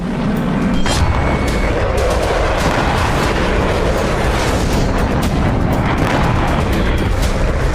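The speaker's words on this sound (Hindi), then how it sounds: "हमास के खिलाफ ऑपरेशन की शुरुआत के बाद से गाजा में अनगिनत धमाके हुए" Loud, continuous rumble of explosions and heavy gunfire in Gaza, booming blasts blending into a dense roar with no break.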